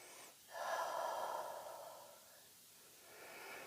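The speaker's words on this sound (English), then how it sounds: "We'll take a new breath." Deep breathing during a yoga session: one long, close inhale-like rush of air builds and slowly fades over a few seconds, followed by a softer second breath near the end, with no talking.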